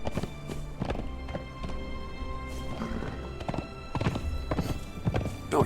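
Video game horse hooves clip-clopping at a brisk riding pace, close and rhythmic, with occasional whinnies and thumps from the in-game action.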